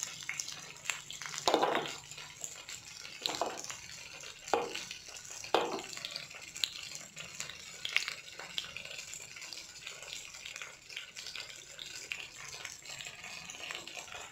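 Mustard, cumin and fenugreek seeds sizzle in hot oil for tomato dal, a steady crackling fry with a few louder pops and spatters early on, close and moderately quiet, with no talking.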